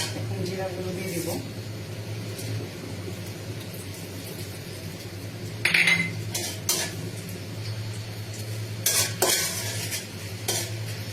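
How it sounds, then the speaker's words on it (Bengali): Whole cumin seeds frying in oil in a pan, a steady sizzle under clinks and scrapes of a utensil against the pan, with a few louder knocks. "এখন জিরাগুলো দিয়ে দিব।"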